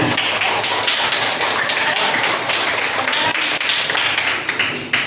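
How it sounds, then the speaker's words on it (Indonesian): A class of schoolchildren claps steadily throughout, a dense patter of many hands applauding at close range without pause. "Iya, betul, tepuk tangan."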